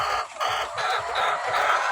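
Many laying hens cluck together on a poultry farm in a dense, continuous chorus, close and loud, with overlapping murmuring calls.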